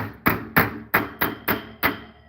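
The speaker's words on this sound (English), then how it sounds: "I'm going to hit around the rivet so we can push it through." A hammer strikes around a rivet in six sharp, evenly spaced metallic blows, each ringing briefly before the next, close and clear with no talk.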